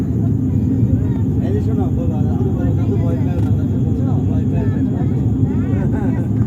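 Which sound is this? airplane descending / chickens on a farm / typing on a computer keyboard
airplane descending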